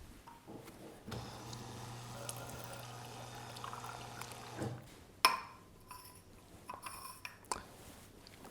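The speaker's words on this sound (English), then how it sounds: "first thing I'm going to do is fill up some tap water in this test tube" Tap water poured into a glass test tube, a quiet steady trickle lasting a few seconds followed by faint glassy clinks and handling noises, close and soft with no talking.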